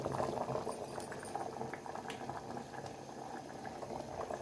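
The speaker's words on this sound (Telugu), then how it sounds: "పూరి డీప్ ఫ్రై చేసుకోవాలి ఆయిల్ వేడెక్కాక" Puri deep frying in hot oil gives off a dense, continuous bubbling sizzle, steady and close throughout with no voices.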